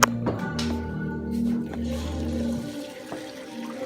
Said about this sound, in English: Take it off the burner. And pour it in the strainer.